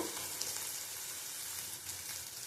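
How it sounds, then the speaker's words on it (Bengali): Masala with salt, tomato and a spoon of sour curd sizzles steadily in a pan while being cooked down for a rohu fish curry, a continuous close frying hiss with no talk. "আবার ভালো করে কষিয়ে নেব।"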